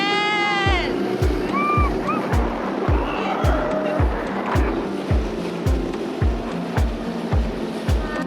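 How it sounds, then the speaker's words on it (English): Small dinghy outboard motoring across choppy water off South Africa, a steady engine drone punctuated by rhythmic hull slaps against the waves, with wind noise and a brief voice at the start. "we're zinging around in our dinghy to go find out what's going on"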